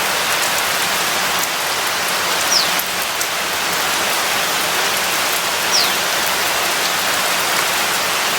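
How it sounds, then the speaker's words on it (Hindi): Steady, continuous rain falls on a misty hillside, an even hiss of drops on surfaces throughout, with faint bird calls breaking through now and then. "लगातार बारिश हो रही है रात से।"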